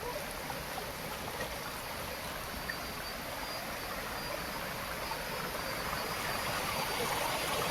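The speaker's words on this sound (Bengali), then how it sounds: "এই সেই ঝর্ণা" A waterfall in a jungle at Sitong makes a soft, steady rushing wash of water that stays even throughout, heard from some distance with no voices over it.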